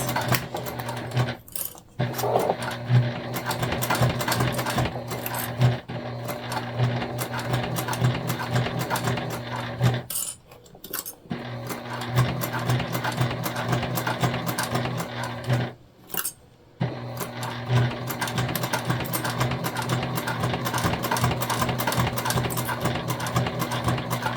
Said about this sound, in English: Again, I am back stitching